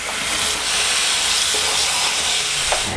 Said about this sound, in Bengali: সবগুলো আম আমি এখন ধুয়ে নেব